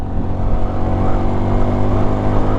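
A 2019 Honda Super Cub motorcycle pulls past another vehicle on the road, its small engine droning loudly and steadily up close with a faint rising whir, no voices.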